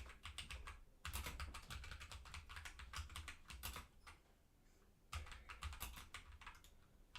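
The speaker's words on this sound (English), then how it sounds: "Sorry, I'm slow typer." Rapid, uneven keystrokes clatter on a computer keyboard in bursts with short pauses, close and fairly quiet, with no talking over them.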